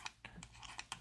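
Several quick, close clicks of keys being pressed while numbers are entered on a calculator or keyboard, five or six taps within a second.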